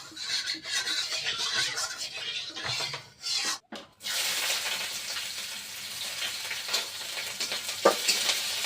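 Onion and green chili frying in hot oil, a loud, steady sizzle with stirring and scraping sounds that cuts out briefly partway through, then returns.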